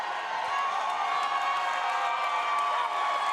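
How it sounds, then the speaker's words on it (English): A large crowd cheers and roars steadily at a state high school swimming championship in an indoor sports arena, a sustained wash of voices and whoops with no break. "As the crowd begins to get into it here at the Devaney Sports Center"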